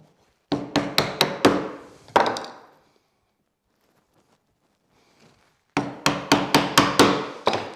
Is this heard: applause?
no